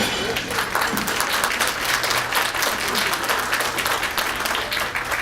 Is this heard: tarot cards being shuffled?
no